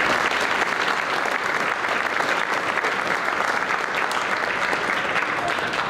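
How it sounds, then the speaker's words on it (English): Sustained, dense applause from a banquet audience honoring school athletes and coaches at a spring sports banquet, steady and full throughout with no speech over it. "give all the athletes and the coaches another round of applause"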